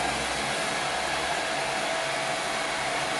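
A hair dryer blows steadily and loudly up close while drying hair at the roots, a continuous broadband rush with no pauses and no voices.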